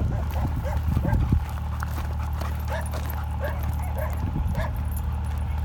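Dogs in a forest, with short yips and whimpering barks at irregular intervals, fairly close and mixed with footsteps and rustling, while people talk and call out nearby.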